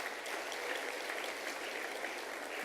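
An audience at a science gathering applauds in a steady, even wash of clapping that stays fairly faint and distant throughout, with no voices rising above it.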